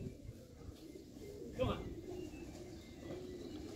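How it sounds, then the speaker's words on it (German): A racing pigeon arriving home from San Vincent gives soft, low coos in a loft, faint and close, while someone talks excitedly over it. "Erste Taube von San Vincent ist da!"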